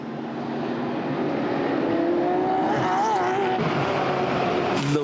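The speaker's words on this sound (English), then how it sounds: "Love the sound of racing engines in the middle of the night." Racing car engines roar through the night during the Dubai 24 Hours endurance race, a steady loud drone with rising and falling engine pitch as cars pass, continuous throughout.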